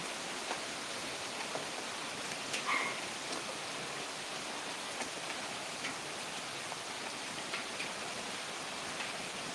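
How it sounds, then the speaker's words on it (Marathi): Heavy monsoon rain pours down in Akola, a steady, even hiss of downpour filling the air throughout with no voices, only faint scattered drips standing out. "आज सकाळपासून खूप चांगला पाऊस पडत आहे"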